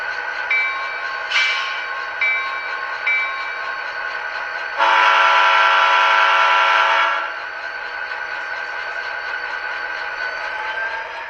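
An HO scale model train with a sound decoder plays steady locomotive engine rumble, with short horn toots early on and one long, loud horn blast in the middle, then the engine drone carries on.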